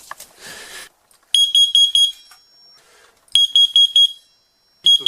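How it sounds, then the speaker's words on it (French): An X-Sense carbon monoxide alarm sounds two loud, shrill bursts of rapid beeping, each a quick cluster of pulses separated by a pause, with a brief rustle before the first burst and a third burst just starting at the end. "j'ai entendu à une assez grande distance que le détecteur avait déclenché"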